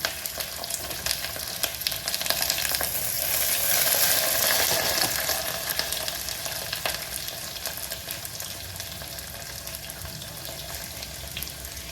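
Potatoes sizzling in hot oil in a pan, a dense, steady frying hiss that swells for a few seconds and then settles to a constant crackle, close by with no talking.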